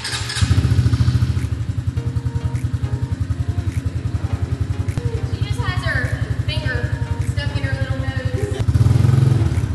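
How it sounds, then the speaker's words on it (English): A dirt bike engine runs loud and close while being ridden, a continuous rough, throbbing drone that rises in a brief rev near the end. "Mommy got a dirt bike."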